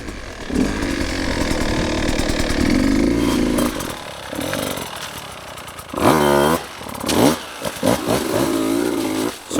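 A dirt bike engine revving and idling while the rider crosses railroad tracks, loud and close, buzzing with rising and falling throttle bursts, strongest near the end, with no talk.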